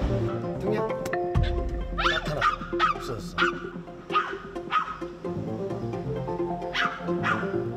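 A dog in a parked car barks repeatedly at the moving windshield wipers, sharp loud yaps in an uneven series with whimpering between, close by, over the hum of the car.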